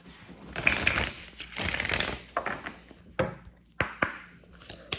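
A deck of cards is shuffled in bursts of crisp riffling and rapid flicking, fairly close and loud, with short pauses and taps between shuffles.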